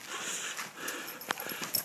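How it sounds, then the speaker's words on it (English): A small pet dog makes soft playful sounds, with faint snuffling and brief yips standing out near the end against a quiet indoor background. "And then, there's my dog."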